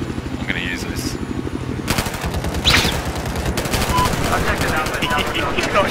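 Sustained automatic gunfire in Battlefield 4, rapid loud bursts rattling continuously near the listener, layered over a droning helicopter rotor and battlefield din, with brief talk mixed in.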